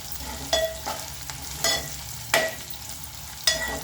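Onions fry in a pan with a constant low sizzle, broken every second or so by a louder scrape of a spoon stirring them, close by and without any voices.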